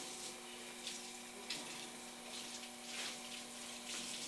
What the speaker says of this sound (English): You just have to rinse the sponge out really well.